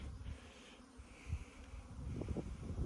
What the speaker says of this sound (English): Look at that, bees everywhere